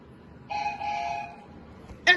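A two-tone train whistle blows steadily for under a second, then a brief sharper toot follows, fairly near over quiet background.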